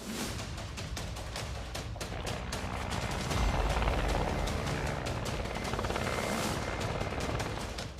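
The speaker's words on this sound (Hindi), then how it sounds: "Mi-14 all weather long range helicopter है जो 300 किलोमीटर दूर तक ऑपरेट कर सकता है।" A Mi-14 all-weather long-range helicopter roars loudly throughout, its rotor chop giving a fast, steady pulsing beat over a dense, rumbling mechanical wash with no speech.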